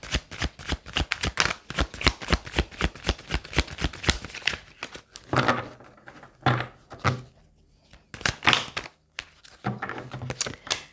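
Tarot cards are shuffled close up in a rapid, dense riffle of crisp flicks, then slower, scattered card slaps and taps with short pauses between them.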